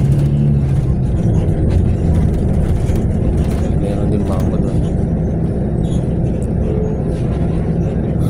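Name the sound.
vehicle traffic at Lucena Grand Central Terminal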